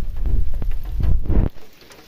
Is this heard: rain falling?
yes